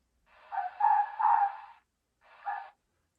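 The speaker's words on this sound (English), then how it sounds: "Many times you'll hear a fox then emit that one syllable mating bark," Recorded fox one-syllable mating barks played from a hissy, static-laden predator call: a longer raspy burst followed by a shorter single bark after a brief gap, moderately loud with no voices.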